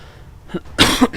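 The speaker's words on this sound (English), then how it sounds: "As I clear my throat very rudely into the microphone." A short, harsh throat clearing, close up, with a faint lead-in rasp followed by a louder guttural burst.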